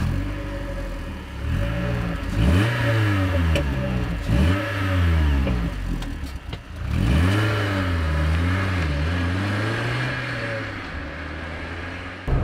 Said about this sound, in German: Wir starten direkt jetzt mit Vollgas rein, fahren also hier ein bisschen über 70 mit ein bisschen über 2000 Umdrehungen.